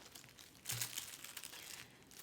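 Tissue paper for a craft flower crinkles and rustles close by, with a sharper burst of crumpling partway through, then softer handling noises, all quiet with no talk.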